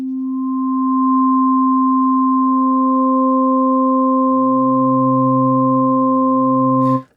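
Steady, pure high synth oscillator tone from Bitwig 5 phase modulation, loud and sustained, with a lower tone entering midway before an abrupt cutoff.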